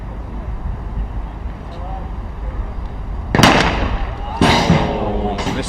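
Police SWAT team fires rifle shots during a timed shooting challenge: two sharp, loud cracks a second apart near the end, under steady crowd murmur and a commentator's voice.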